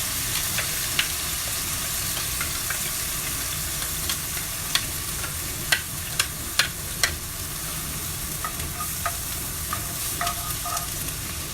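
Vegetables sizzle steadily in a preheated cast iron skillet, a constant frying hiss with scattered sharp pops and crackles and the occasional scrape of stirring, close by, with no voices.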